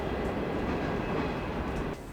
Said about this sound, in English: That train wake you up?